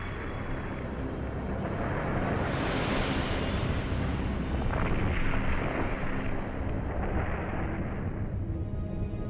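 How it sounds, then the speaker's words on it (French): An asteroid impact explosion effect from a cosmos documentary delivers a sustained, loud roaring rumble that swells and churns continuously like a massive blast and shockwave. "Une explosion de 100 millions de mégatonnes pulvérise New York."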